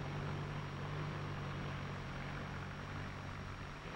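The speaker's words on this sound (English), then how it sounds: "You can actually hear this difference as the new Ford tractor passes by." A new 1953 Ford tractor engine passes by, a steady low mechanical drone with a strong low hum that holds at an even, moderately loud level throughout.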